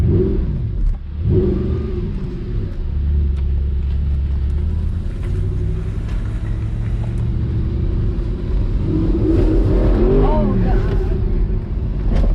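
An Audi R8 on its first test drive after a rebuild, its engine droning and accelerating loudly with rising and falling pitch sweeps, passengers talking over the steady road and engine noise inside the cabin.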